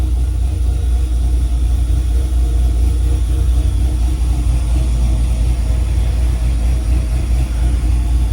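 A car engine settling into a steady idle after a deliberate startup RPM flare while its tune is adjusted, a continuous loud low rumble with no pauses.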